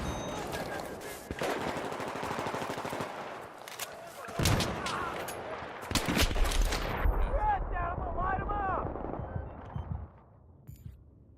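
Battlefield 3 gunfire on PS3: rapid automatic bursts and sharp shots crackle through, with heavier booms midway, while a player's voice talks over the firing.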